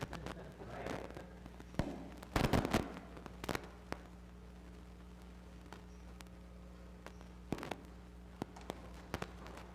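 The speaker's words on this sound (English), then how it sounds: "Fireworks started early this year." Distant fireworks pop and crack in scattered bursts, with a cluster of sharp bangs early on, over a steady low electrical hum in a quiet room.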